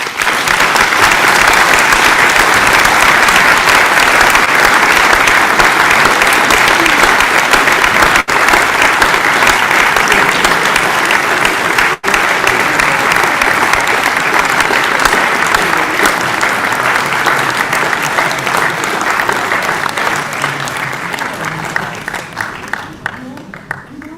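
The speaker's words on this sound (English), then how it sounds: "we'll all applaud as you make your way up" Audience applause at a sports award ceremony in Tynedale, a loud, dense, continuous wash of clapping from a large crowd that holds steady for over twenty seconds before slowly thinning.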